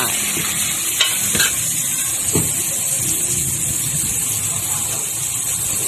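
Roti fries in a hot pan with a loud, continuous sizzle close up, joined by a few scraping stirs and clinks and a low hum in the background.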